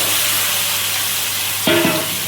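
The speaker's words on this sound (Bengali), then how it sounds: "কড়াই নেড়ে নেড়ে ভেজে নেব" Mango pieces frying in a wok of oil for Bengali mango pickle, with panch phoron spices: a steady sizzling hiss, then a brief scrape and clatter as the pieces are stirred near the end, no voices.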